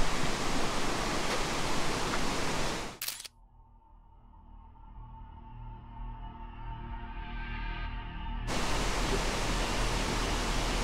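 A roadside mountain waterfall in Yamanashi roars as a steady, loud hiss of falling water, which cuts out abruptly for several seconds midway before returning just as strongly.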